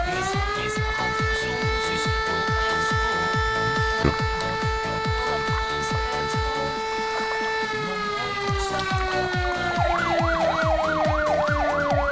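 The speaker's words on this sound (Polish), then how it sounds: "Poczekam, aż straż pożarna przyjedzie." A fire engine siren wails steadily in Farming Simulator 19 as the truck arrives at a large fire, loud and continuous with a repeating rhythmic engine pulse underneath, then shifting into a faster warbling yelp near the end.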